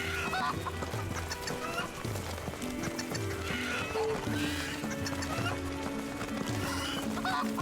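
Chickens clucking in Final Fantasy XVI, mixed into a dense game soundscape with steady background music and other animal calls, constant and moderately loud throughout.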